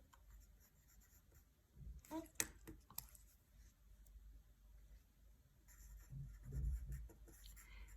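A pen writes notes by hand during a lesson on prism and pyramid volume, with a few soft scratchy strokes and taps, faint and close, against a quiet low background.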